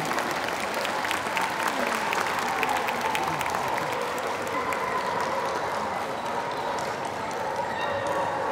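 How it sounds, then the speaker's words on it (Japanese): Sustained audience applause at a Japan Kennel Club dog show, steady and dense throughout with faint background voices and a dry clattering texture. "盛大な拍手をお願いいたします。"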